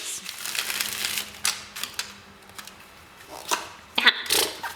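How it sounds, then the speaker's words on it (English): A deck of tarot cards is shuffled close up, giving quick papery riffles and snaps with a few sharper slaps near the end. "One more shuffle for the outcome."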